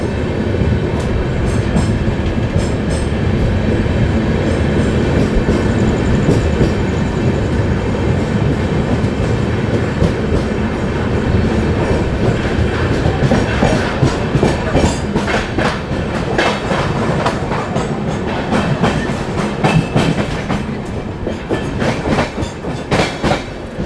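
An Indian Railways train rolls past a station, a loud continuous rumble with steady clickety-clack of wheels on rail joints throughout.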